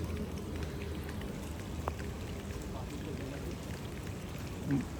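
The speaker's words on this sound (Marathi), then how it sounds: "आता पाऊसच आला जोरात" Steady rain hisses and patters continuously in the background, a dense, even wash of sound with no pauses, fairly quiet overall.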